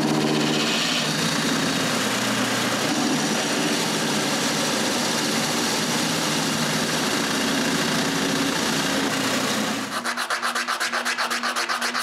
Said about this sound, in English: Then I cut a chamfer.